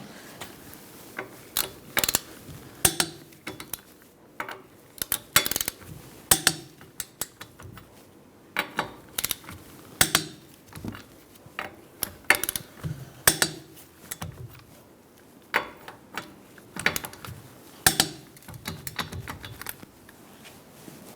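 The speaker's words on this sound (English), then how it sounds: "Using a 21 millimeter socket, we're going to torque our lug nuts to 76 foot-pounds." A 21 mm socket torques the lug nuts on the rear wheel of a 2002-2006 Toyota Camry, giving repeated sharp metallic clicks and ratcheting bursts in uneven clusters, close and fairly loud, with no talking.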